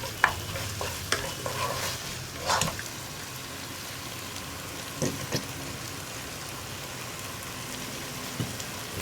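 A spatula stirs Chicken Schezwan noodles coated in tomato and other sauces in a pan over high flame, giving a steady sizzle and frying hiss with intermittent scraping and clinking strokes, all fairly quiet and with no speech.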